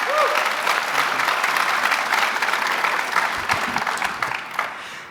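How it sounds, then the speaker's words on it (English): An audience at a university press conference about hosting the Big South basketball championship gives a sustained round of applause, dense clapping from a crowd filling the room and fading toward the end. "So if you all would join me in just giving them a round of applause for Alanka-Mustin City."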